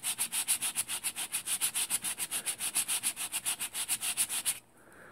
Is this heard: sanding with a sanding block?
yes